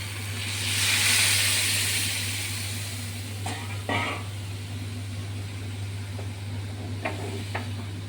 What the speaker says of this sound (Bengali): এবার আমি গরম জলটা ঢেলে দেবো।